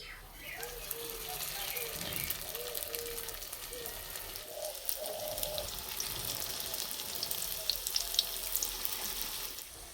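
Bun parotta frying in hot oil in a nonstick kadai, with a steady sizzling hiss that runs through the whole stretch and small crackles rising now and then. A voice can be heard faintly in the background.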